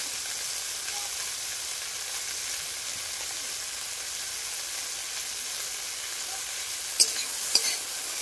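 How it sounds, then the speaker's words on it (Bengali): Okra frying in a pan for a spicy prawn dish, with a steady close sizzle and a couple of sharp stirring clinks near the end, no talk. "ঢেঁড়সগুলোকে আগে হালকা করে ভেজে নিতে হবে তোমাদেরকে।"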